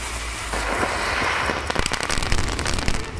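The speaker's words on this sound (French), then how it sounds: "J'ai utilisé un pétard pour simuler cela." A firecracker set under a LEGO car pops in a burst of sharp crackling bangs after a short hissing lead-in, loud and close with no voices.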